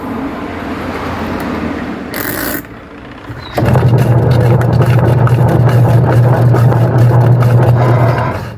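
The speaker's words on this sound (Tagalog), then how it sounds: "gearbox to ang sira, maingay." A Sharp Gigawash 6.5 kg washing machine with a faulty gearbox spins up, giving a loud, steady mechanical whirr and drone that stops briefly, then returns stronger and continuous.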